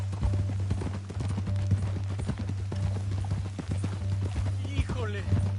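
Rhythmic clip-clop of galloping horse hooves in Red Dead Redemption 2, steady and close, running under a low hum, with bits of game sound and a brief voice over it.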